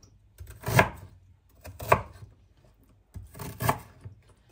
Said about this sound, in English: So, gonna cut in our ginger.